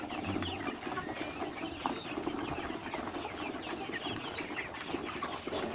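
Dense poultry chatter fills the whole stretch, with many 10-week-old Roman Brown laying hens clucking and calling at once at a steady, busy level during a midday feeding.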